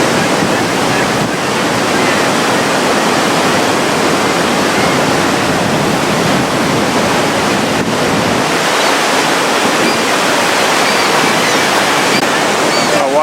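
Niagara Falls roars as a steady, dense wash of falling water with a mist-laden rush, loud and unbroken throughout, close to the cascade with some wind buffeting the microphone.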